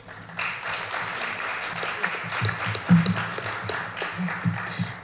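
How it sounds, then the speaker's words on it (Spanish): An audience at a book presentation applauds, a sustained patter of clapping that swells toward the middle, with some louder nearby claps over a soft background murmur. "les pido la reciban con un fuerte aplauso, por favor"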